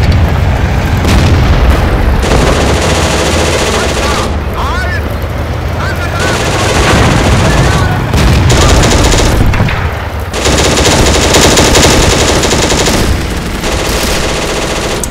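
Repeated heavy cannon booms and bursts of machine-gun fire come from a King Tiger tank in the Steel Fury war game, loud and dense with brief gaps, while a voice talks over the combat.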